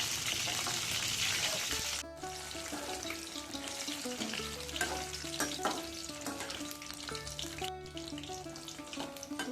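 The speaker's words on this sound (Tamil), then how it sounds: "நல்லா சிம்மில் வச்சு நல்லா கொஞ்சம் நேரம் வதக்குங்க கத்திரிக்காவை" Eggplant sautéing in oil over low heat for a Tamil ennai kathirikkai kuzhambu, a steady soft sizzle and frying crackle with occasional stirring scrapes, close by and without speech.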